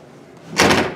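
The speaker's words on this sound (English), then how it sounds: "Door doesn't close properly." A guest laundry room door at a Hilton Garden Inn in Winnipeg, one that doesn't close properly, gives a single short, fairly loud knock or rattle after a moment of quiet room tone.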